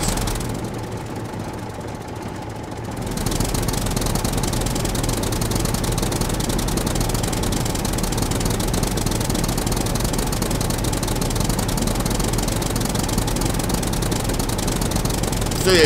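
A tractor engine in the survival video game Scum runs steadily at a low, rumbling idle, starting up after a few quiet seconds and continuing loud and unbroken.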